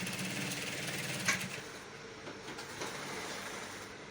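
A sewing machine stitching a flap on an Ankara top, a fast mechanical whirr for about a second and a half, then quieter intermittent rattling and soft handling noise.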